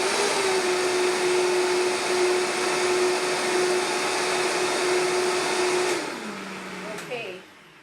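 A blender whirs loudly and steadily on high speed blending raw spinach, then winds down and stops near the end, with a brief clack as it shuts off.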